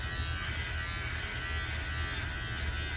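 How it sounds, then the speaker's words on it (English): Conair electric hair clippers run with a steady, close electric buzz, constant and unbroken throughout with no talking. "This is a set of Conair clippers that I've had for years."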